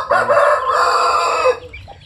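A loud, close Shamo Aseel rooster crow rings out for about a second and a half, followed by a few softer clucks.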